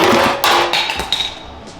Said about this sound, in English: I'm gonna hammer and dolly, which I already started a little bit here, to stretch these tacks back out